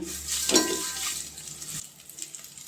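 Vegetables frying in a pan for vegetable biryani, a sizzle with a stirring scrape near the start that fades to a quieter hiss by the end.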